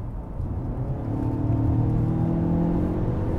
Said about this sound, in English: let me just floor it while we're already moving